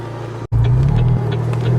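A McLaren GT supercar drives with a strong, loud engine hum heard from inside, briefly cutting out for a moment before the steady note resumes and swells.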